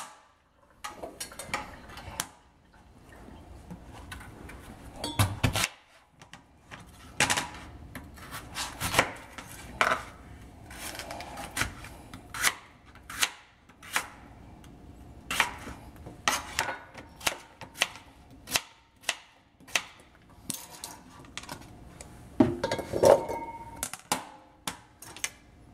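Knife chopping pieces of pork on a cutting board for a curry, giving a series of sharp, irregularly spaced chops with short pauses between them, close and fairly quiet.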